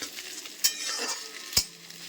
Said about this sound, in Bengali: তো ডিমটা ভালো করে ভেজে নিয়ে তারপরে জল দিয়ে ম্যাগির মশলাটা দেবো